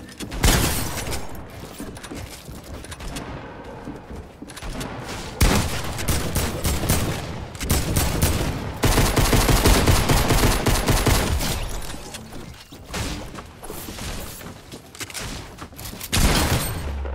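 Assault rifle fire crackles through a Fortnite arena match in long, rapid automatic bursts separated by brief lulls, loud and close, with impacts and clatter mixed in.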